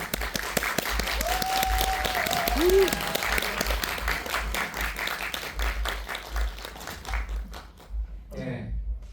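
A cinema audience at a film screening's guest talk in the Park Chan-wook hall at CGV Yongsan applauds steadily to welcome the director and actors of the film Manhole. Sustained clapping fills the room while a host speaks over it.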